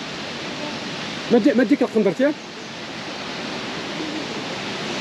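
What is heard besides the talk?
Ouzoud waterfalls in Morocco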